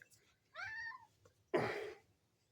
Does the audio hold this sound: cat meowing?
yes